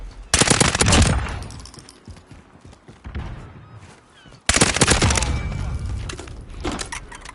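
Automatic weapon fire in the Modern Warfare video game during a weapon test: two loud, rapid sustained bursts, the second longer, separated by a quieter stretch with scattered faint shots.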